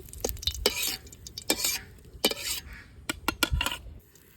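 Culantro leaves fry in a pan for a Bangladeshi vorta dish, with a soft sizzle under intermittent scraping strokes of a spatula against the pan.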